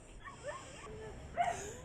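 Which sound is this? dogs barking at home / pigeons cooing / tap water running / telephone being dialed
dogs barking at home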